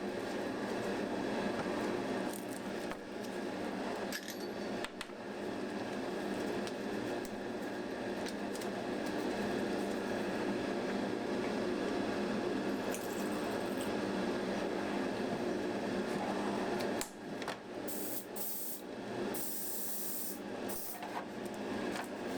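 An airbrush sprays primer onto the hull of a Tamiya 1/350 HMS King George V model ship, giving a steady close hiss in long continuous strokes with brief breaks and no talking.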